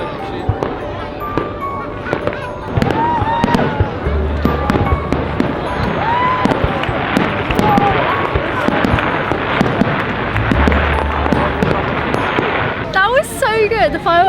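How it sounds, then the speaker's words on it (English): Repeated fireworks bursts on the Gold Coast, Australia, boom and crackle loudly over several seconds, with a crowd chattering and cheering throughout. "The fireworks were really good."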